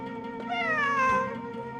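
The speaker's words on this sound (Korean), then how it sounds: "고양이?" A cat meows in the Genshin Impact video game, one drawn-out, rising then falling call heard close and clear over a steady low background hum, with no talking.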